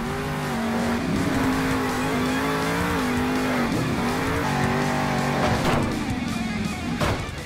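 In the Monster Jam Steel Titans video game, a monster truck spins donuts. A continuous, loud engine roar rises and falls with revs, under a steady scrub of tire squeal, with no talking.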